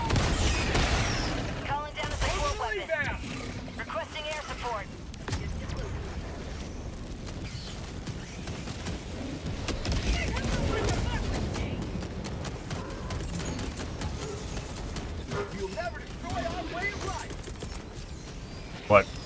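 Orbital strike barrage called down in Helldivers 2 on Helldive difficulty 9: a dense, continuous roar of rumbling blasts and crackling impacts runs throughout, with a sharp hit near the end and faint voices mixed in.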